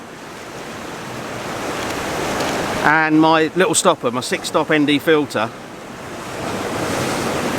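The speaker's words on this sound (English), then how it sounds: "the waves are coming up in the middle, splashing up over the top and then draining off either side" Ocean surf surges over coastal rocks and drains off either side, a steady broad wash with wind buffeting the microphone, while someone talks briefly in the middle over it.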